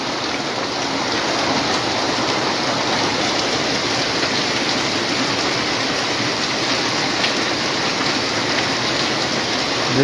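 Downpour of heavy rain in flood-hit Vizag, an unbroken loud hiss and patter of drops hitting surfaces nearby, constant throughout with no speech over it.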